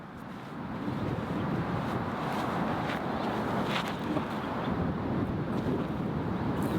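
Steady broadband wind gusting across a disc golf course, a continuous rushing roar with low buffeting that swells in after the first second and holds loud throughout, with no one speaking.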